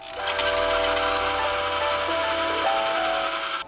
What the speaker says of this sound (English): we're going to take the drill bit and we're going to drill a hole into the screw